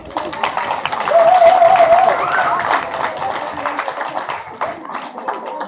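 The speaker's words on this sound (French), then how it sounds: "je vous remercie de tous les applaudir." An audience at a dance show applauds the volunteers, a loud, dense burst of many hands clapping that holds steady and then thins out slightly, with cheering voices mixed in near the start.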